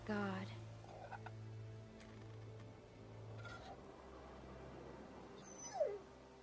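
A dog in The Walking Dead Season Two video game gives soft whimpers and yips, close and faint, with a low steady hum underneath and a brief high whine near the end.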